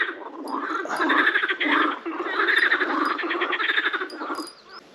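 Chorus of frogs croaking beside a pond during float fishing in late May, dense rapid pulsing calls overlapping continuously and fairly loud throughout.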